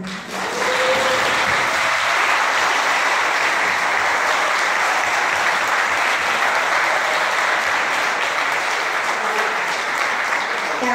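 A large audience at a Teachers' Day celebration breaks into loud, sustained applause for the cleaning and kitchen staff, a dense, steady wash of clapping that starts abruptly and holds for about ten seconds.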